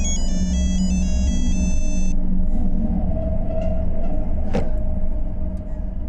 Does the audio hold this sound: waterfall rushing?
no